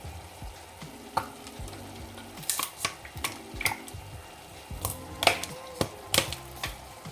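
Ginger garlic fries in oil in a pan for street-style chilli soya chunks, a soft sizzle under frequent sharp spoon scrapes and clinks against the pan.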